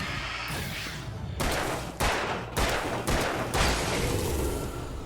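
Rapid bursts of gunfire from a third-person shooter game, Alan Wake, ring out in four or five loud volleys separated by short pauses, dense and close.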